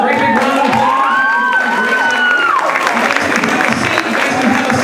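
Schoolchildren in an audience applaud and cheer together, a loud, steady roar of clapping and shouting voices, with a few higher excited cries rising above it.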